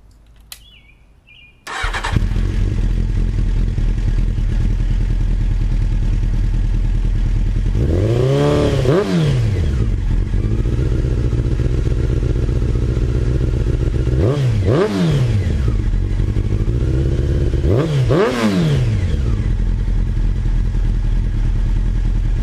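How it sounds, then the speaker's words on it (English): A Honda CBR600 F2 motorcycle with its stock exhaust starts up and settles into a loud, steady idle nearby, then revs sharply three times with rising and falling swoops, no talking. "let you know what it sounds like beforehand"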